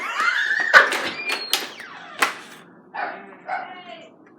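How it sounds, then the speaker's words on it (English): A dog barks several times in short, sharp bursts, with a few yips mixed in, fairly close and loud, while people talk over and around the barks. "The dog's all barking at me."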